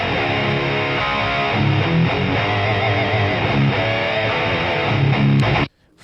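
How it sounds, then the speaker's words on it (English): Two distorted electric guitar tracks, close-miked and blended together, play a dense, loud, continuous riff before cutting off abruptly near the end. "these both guitars would sound like this"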